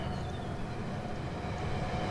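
Train rolling along the tracks in the railway simulation game Rolling Line, a steady low rumble with rail noise, loud and continuous throughout, with no speech.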